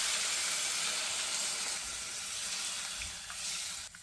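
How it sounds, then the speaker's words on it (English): Water pours steadily and close into a pot of chopped lamb, a continuous rushing splash that eases slightly toward the end. "So now we have added in water."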